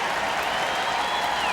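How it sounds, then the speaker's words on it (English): A crowd of 30,000-plus baseball fans at a Mariners vs Astros game cheering for a strikeout in the 8th inning, a broad, steady roar of distant voices and applause filling the stadium. "cheering on Davinsky, looking for a strikeout to end the 8th."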